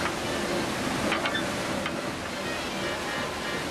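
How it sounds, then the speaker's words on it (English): Water pours steadily out of a canal lock chamber through the opened paddles on the bottom gates, a continuous broadband rushing roar filling the whole clip at close range, with brief faint clatters partway through. "Water is released from the lock chamber by operating the gate paddles on the"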